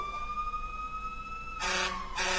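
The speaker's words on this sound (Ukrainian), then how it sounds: "це поїхала пожежна машина" A fire engine siren wails steadily with a long sustained tone, joined near the end by loud blaring horn blasts as the truck goes by.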